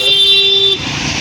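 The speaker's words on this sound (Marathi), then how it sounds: "तर तिथे पूर्ण ट्रॅफिक जाम झाली" Busy road traffic jammed in heavy Mumbai rain: a steady close car and engine rumble with a long horn blast that cuts off partway, leaving a wash of street noise.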